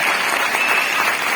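Steady audience applause at a company anniversary celebration, a dense continuous patter of many hands clapping for a newly crowned leader, filling the short moment without a break.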